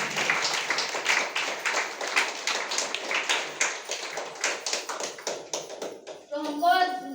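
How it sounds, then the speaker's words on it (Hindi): An audience at a DXN meeting claps in a quick, uneven patter of many hands, fairly close and steady for several seconds before a voice begins speaking at the end. "और सबके लिए मैं जबरदस्त एक बार ताली चाहती हूँ।"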